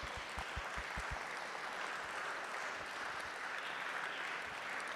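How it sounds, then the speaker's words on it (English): Faint, sparse applause from a conference session audience, a soft scattered patter after a few low thumps at the start, distant and steady throughout. "I invite the audience to thank you also by an applause"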